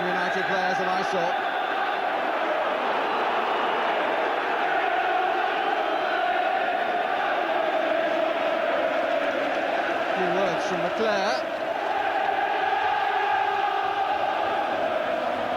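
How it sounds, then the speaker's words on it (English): Manchester United supporters keep up a steady, loud crowd roar at a football match against Oldham Athletic, with a commentator talking over it throughout. "But the noise is coming from the Manchester United support."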